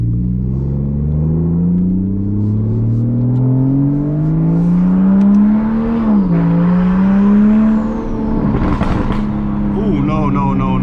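A big-turbo Toyota Supra making about 750 wheel horsepower driven at night in South Korea, the engine droning and rising steadily in pitch through the gears, loud from inside the car, with a brief turbo whoosh and flutter near the end.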